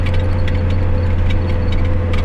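A loaded tractor labours along a rough country road, a loud, steady low engine drone with a throbbing hum and faint rattles, heard close without speech.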